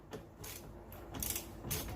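A ratchet tightens bolts on the front suspension of a Dodge Ram 1500 near the upper ball joint, giving several quick bursts of close mechanical clicking and clanking.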